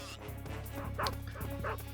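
A guard dog in the Metal Gear Solid video game gives a quick series of about four yips, barks and whimpers over two seconds. They sound fairly faint against a low, steady game background.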